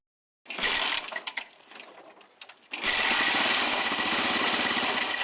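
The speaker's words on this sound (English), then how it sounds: "Okay, start the engine." A small engine coughs and sputters to life, stalls briefly, then catches and settles into a steady, buzzing idle close by.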